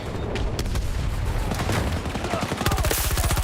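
Gunfire from a sniper in a shooter video game crackles in a rapid burst of sharp reports, loud and close, building into a dense rattle toward the end.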